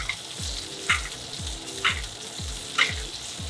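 Steak frying in a stovetop pan with butter and garlic, a steady loud sizzle with regular spoon-basting splashes about once a second, close up with no talk.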